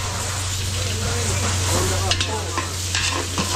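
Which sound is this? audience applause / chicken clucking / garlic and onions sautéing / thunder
garlic and onions sautéing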